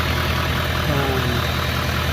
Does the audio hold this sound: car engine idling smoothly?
yes